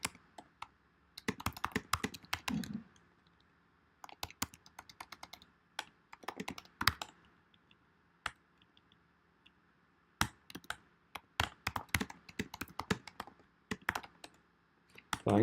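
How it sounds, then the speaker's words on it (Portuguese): Fast typing on a computer keyboard comes through as quick, close clusters of crisp key clicks in irregular bursts, broken by short silent gaps, with no talking. "você começa a digitar rápido, começa a errar mais."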